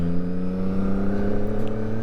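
A CF Moto 675SS sport motorcycle engine warming up, a steady close idle hum with even low harmonics and no revving, running alone without talk.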